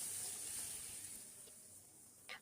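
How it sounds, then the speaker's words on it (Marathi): Wheat-flour puris frying in a wide pan of hot oil give a steady, soft sizzling hiss that eases slightly over time, ending with a brief bubbling burst near the close. "अशाच प्रकारे आणखी काही पुऱ्या मी तुम्हाला तळून दाखवते."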